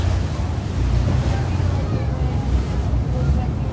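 Ocean waves breaking near a point offshore, a continuous low roar of surf mixed with heavy wind buffeting the microphone, loud and steady throughout with no distinct individual breakers.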